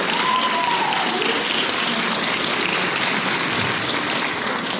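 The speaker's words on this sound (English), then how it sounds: "Round of applause for like the kids, man." Applause from a live festival audience for young mariachi performers at the El Paso Border Folk Festival, dense steady clapping that fills the whole span with no pauses.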